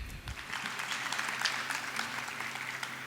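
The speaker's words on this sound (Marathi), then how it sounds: "टाळ्या." An audience claps at an annual school concert: dense, sustained applause rising right after a brief start and holding steady for about three seconds, moderately loud and fairly close, with no voices over it.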